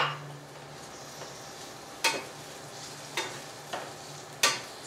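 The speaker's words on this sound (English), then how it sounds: "And you're going to saute the onion" Onion sautéing in olive oil in a pan for a Christmas meal, a faint steady sizzle with several sharp clinks of a utensil against the pan spaced a second or so apart, no talk.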